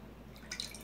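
Liquid from a can of fruit for fruit salad drains into a bowl, giving a few faint, soft drips and light splashes over a quiet background.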